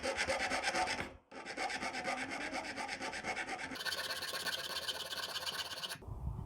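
A metal file rasps rhythmically against silver in quick, even strokes, close up, pausing briefly and then continuing with a brighter scraping tone from the file's flat side.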